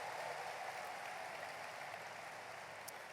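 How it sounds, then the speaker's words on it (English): An audience at a high school sports awards show applauding for an honoree, a dense, even wash of clapping held at a steady moderate level throughout. "give me a warm round of applause for Matilda"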